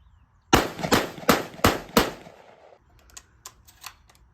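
A Mossberg 930 Tactical shotgun firing lead birdshot: five loud, sharp shots in quick succession, then fainter clicks and clatter of handling.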